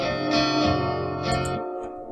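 An electric guitar through the Airy Codes effects preset rings out with a couple of sustained notes and chords. The tone is washy and effect-laden, with a bright attack and a short fading tail.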